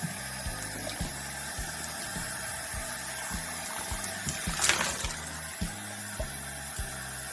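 Water runs while tumbled rocks are rinsed, a steady gush over the whole stretch, broken by a repeating mechanical thumping pulse.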